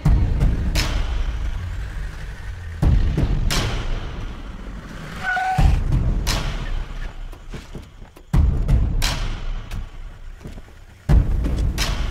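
A heavy vehicle rolls in with sharp air-brake hisses and thumps, several loud bursts spread across the scene over rumbling traffic noise, with a short tonal horn-like squeal in the middle.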